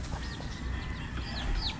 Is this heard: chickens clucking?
yes